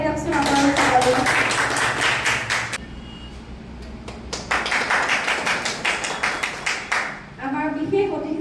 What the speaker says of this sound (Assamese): এখেত লোক তিনিওজনৰ কাৰণে এটা হাত চাপৰি বজাই দিয়কচোন আপোনালোকে।